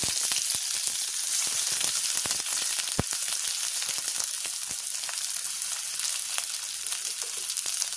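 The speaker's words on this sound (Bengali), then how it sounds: "তো দেখুন এখানে তেল তো গরম হয়ে গেছে। পেঁয়াজটা দিয়ে দিলাম।" Onion frying in hot mustard oil in a pan, a loud, close, continuous sizzle with scattered sharp crackles and pops throughout.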